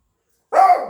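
A single short dog bark, close and fairly loud, after a moment of silence.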